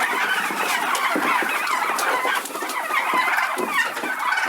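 Turkeys on a farm, back from grazing, cluck and chatter continuously in a dense flock, with many overlapping short calls close by and no speech.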